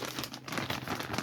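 A plastic bag is pulled open during an unboxing of outdoor and rescue gear, giving close, quick crinkling and rustling bursts throughout.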